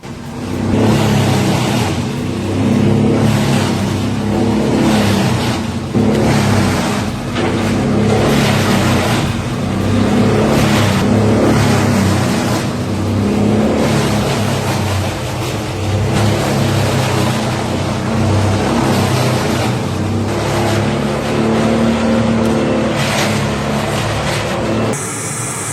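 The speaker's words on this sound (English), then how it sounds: "300 horsepower Tier 4 engine, shredding tough material with ease." A 300 horsepower Tier 4 forestry shredder grinds through tough wood, its engine roaring loud and steady throughout with heavy churning and crunching layered over a deep rumble, no voices present.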